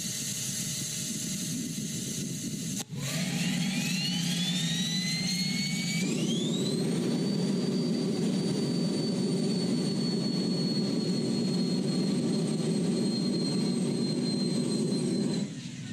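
An Air Turbo Rocket engine on a test stand spools up from a steady roar, whines rapidly upward in pitch, then holds a loud, sustained jet-like roar with a high tonal whine before cutting off.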